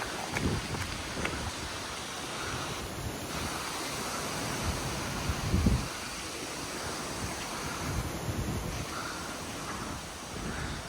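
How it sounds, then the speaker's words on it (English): Strong wind after a storm roars and gusts outdoors in a steady, rough rush of noise that swells now and then, buffeting the microphone, with no voices. "the wind just got horribly strong"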